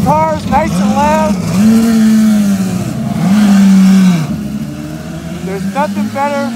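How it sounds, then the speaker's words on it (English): IndyCar race car engine firing up and revving hard, a loud sustained roar rising and falling in long pulls, with people talking over it at the start and end. "And I'm firing up the cars nice and loud."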